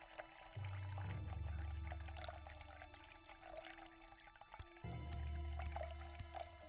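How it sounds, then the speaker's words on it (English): Liquid pours steadily in two long runs, a low continuous splashing stream that stops briefly midway and then resumes, loud and close, with faint dripping and background clatter between. "then you, like, pour it like that"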